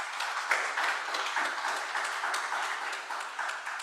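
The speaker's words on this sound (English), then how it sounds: "I just want to give a round of applause to Jamie and the praise team" A church congregation at a congregational meeting applauds the praise team, a dense, even patter of many hands clapping at moderate volume, continuing without pause.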